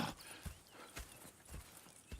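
Horses in the Western video game Red Dead Redemption 2, with several soft hoof clip-clops and a brief whinny spread across a short stretch, fairly quiet against a faint background.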